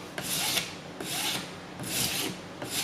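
A hand file rasps along a workpiece edge in long, even strokes, roughly one per second, with each stroke a close, hissing scrape and no talking.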